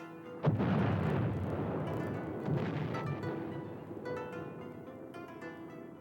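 A heavy explosion booms from archive war footage of bombing aimed at the British battleships Prince of Wales and Repulse. It is followed by a rumbling roar that fades over several seconds, with a second, lesser thud within it.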